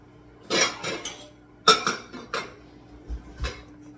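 Pork cutlets go into a pan amid a run of metallic clanks and clinks of cookware and utensils, several close knocks in irregular bursts with short gaps between.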